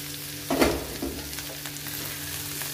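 Potato and beetroot cubes fry in a pan while being stirred: a steady, close sizzle runs throughout, with a louder scraping stir swelling up around the first second.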